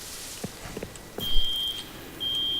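An electric door alarm in the video game Rust gives a sustained high beep that cuts off and restarts, following a few soft clicks and a brief thump.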